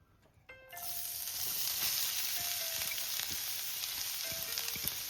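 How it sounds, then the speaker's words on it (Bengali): Grated carrot hits hot melted ghee and bursts into a loud, steady sizzle that holds throughout, with occasional light clinks and scrapes as it is stirred. "গাজরটাকে এবার হালকা করে একটু নেড়ে চেড়ে ভেজে নেব।"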